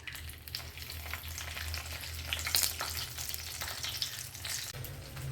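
Fish frying in a pan, a steady close sizzle with crackling pops and occasional stirring scrapes running continuously throughout, no voices.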